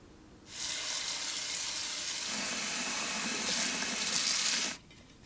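Running tap water splashes steadily into a sink as freshly picked dandelion flowers are rinsed indoors, a continuous hiss that starts abruptly, grows slightly fuller and louder midway, then cuts off, with no talking.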